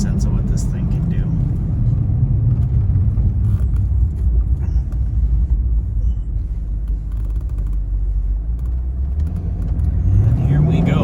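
A 2011 Corvette Grand Sport convertible with a six-speed manual accelerates hard toward 100, its loud, steady engine rumble dropping in pitch at a shift and rising again near the end, with wind noise around it.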